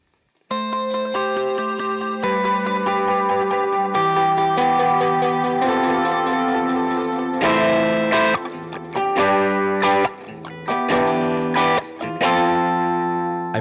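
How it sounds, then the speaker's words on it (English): Electric guitar chords ring out through delay and reverb on an ML10X switcher with spillover trails, echoes and long tails overlapping into a sustained, layered wash with no talking. "delay and reverb trails that were created by playing the guitar"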